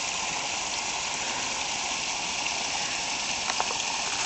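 Small waterfall at Plotterkill Nature Preserve spilling over bedrock into a deep pool, a steady close-up rushing splash that holds even and continuous with no voices.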